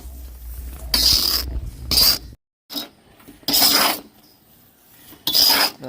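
Potatoes being stirred in hot sea sand as they roast, giving repeated loud gritty rasping scrapes in bursts, about four strokes with short pauses between, close by and with no talk.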